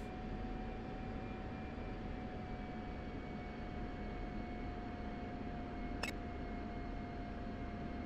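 In the DCS combat flight simulator, F-16 jet engines run up with a steady, low, noise-like roar and a faint whine throughout, broken once by a brief click.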